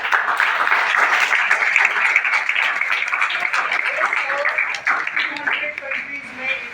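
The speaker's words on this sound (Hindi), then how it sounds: "और तालियां भी बननी चाहिए।" A seminar audience of students in India breaks into applause, a lively burst of many hands clapping close and loud, thinning toward the end as a few voices come through.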